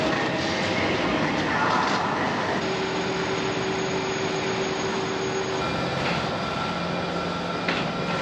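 Inside a busy double-decker train in motion, a constant loud rumble and roar of the carriage with a faint steady tone through the middle and no clear voices.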